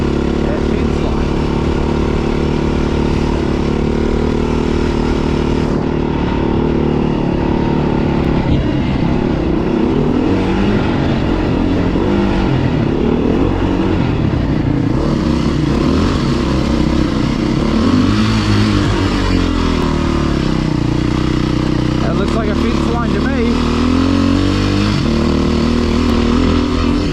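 A Beta RR 430 motorcycle is ridden out along a farm fence line. The engine drones loud and steady throughout, rising and falling as the rider revs up and backs off.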